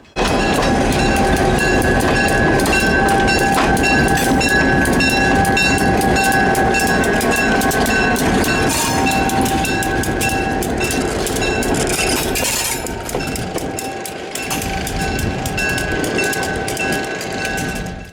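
A heritage train powered by an A18 locomotive pulls out of a museum station past a flat car and Erie caboose, a loud continuous rumble with clanking wheels and a sustained horn tone running through it.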